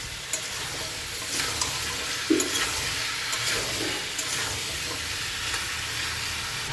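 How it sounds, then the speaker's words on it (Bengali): Taro stir-fried together with pulla fish in a pan, giving a steady hissing sizzle with occasional soft stirring scrapes. Nobody speaks. "কচু পুল্লাটা আমি একসঙ্গে দিয়ে দেবো। ভালো করে কষিয়ে নেবো।"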